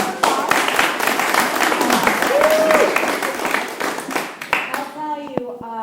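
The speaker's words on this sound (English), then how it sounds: "let's give a round of applause" Loud audience applause fills a chamber of commerce monthly membership meeting, dense clapping with a cheer or whoop, tapering off near the end as a voice begins talking over it.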